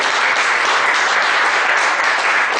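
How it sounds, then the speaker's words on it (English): Dense, steady applause from a seminar audience honouring two speakers after a legal session on deal structuring and documentation, loud and sustained throughout with no voices over it. "Please give them a big round of applause"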